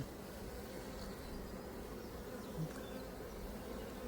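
Honeybees buzz over a brood frame lifted from a hive during an inspection of a wild swarm, a soft steady droning hum of many insects, close and continuous and fairly faint.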